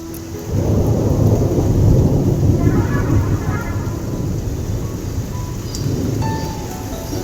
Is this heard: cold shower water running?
no